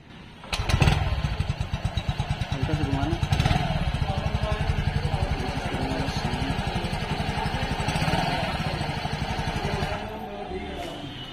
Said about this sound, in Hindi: इसका एग्जॉस्ट नोट भी मैं आपको सुना देता हूँ